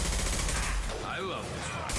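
Sustained gunfire from a Mass Effect 2 firefight rattles on loud and dense for about two seconds, with faint voices mixed into the noise.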